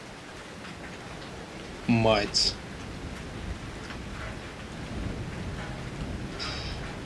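Rain falling with thunder in the horror video game Outlast 2, a steady wash of rain throughout as a man briefly mutters under it.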